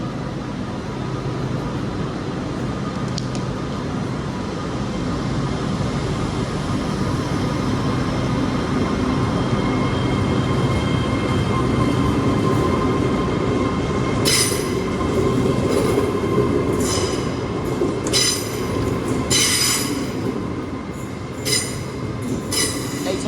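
Class 805 passenger train pulling out of London Euston bound for Wolverhampton, a loud sustained rumble of rolling stock with bursts of high wheel squeal toward the end, no voices.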